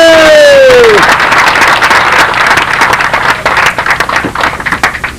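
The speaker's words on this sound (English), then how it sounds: "if you have a round of applause for Jimmy" A crowd at a control-line model aircraft contest awards ceremony applauds the third-place finisher, loud clapping and cheering that follows a fading tone and tapers into separate claps.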